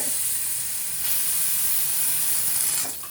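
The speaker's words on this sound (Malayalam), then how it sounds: "വിസിൽ വരാൻ തുടങ്ങിയിട്ടുണ്ട്" Pressure cooker whistle while jaggery cooks into syrup for mango payasam: a loud, steady, high hiss of escaping steam that holds for about three seconds and then drops off near the end.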